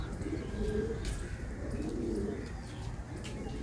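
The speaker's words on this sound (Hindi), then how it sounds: "तो जैसा कि हम जूम कर रहे हैं तो आपको दिखाई दे रहे हैं हमारे कबूतर" Pigeons cooing among flying high-flyer pigeons outdoors in India, soft repeated low coos with a few faint chirps over a steady rumbling background.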